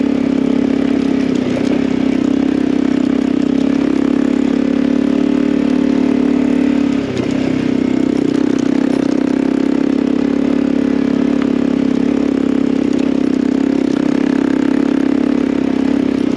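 A light motorcycle engine drones steadily and loudly close by throughout a ride climbing a steep section in Gunnison Valley, with only slight shifts in pitch.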